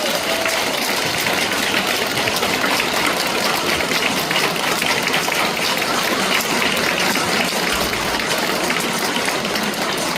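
An audience in a lecture hall gives a priest a sustained, dense round of clapping that holds steady and loud throughout.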